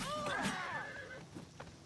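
A horse in the video game Oblivion lets out a loud, quavering whinny with sliding pitch, followed by faint hoof clatter and light background sound.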